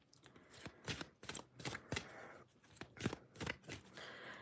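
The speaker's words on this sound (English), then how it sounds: "As I shuffle these cards" Tarot cards are shuffled by hand in a series of quick, crisp riffling bursts, about eight close flutters in an uneven rhythm with short pauses between them.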